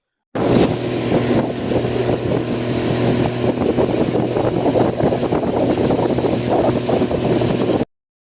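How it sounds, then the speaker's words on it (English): A boat motor on a lake, heard as a steady droning engine over wind buffeting the microphone, holding level for several seconds before cutting off. "I think I hear the motor coming."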